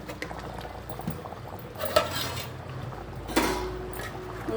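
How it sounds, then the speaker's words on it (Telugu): An egg masala curry bubbles in a pot, a low steady simmer with soft popping blips and a couple of faint metallic clinks, no voices. "ఇంకా 5 minutes ఉడకాలి."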